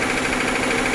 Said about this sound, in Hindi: हाँ तो दोस्तों ये आवाज़ इंजन के अंदर से आ रही है।